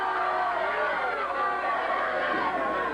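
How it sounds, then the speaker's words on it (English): A crowd hollers and cheers throughout a 1970s Northern California wrist wrestling match, a steady, dense roar of many voices with no pauses. "The crowd hollering."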